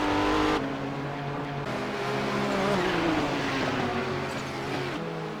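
A GT race car screams around Lime Rock Park in a racing game, its engine droning steadily at high revs while the pitch rises and falls through gear changes and corners, loud and continuous throughout.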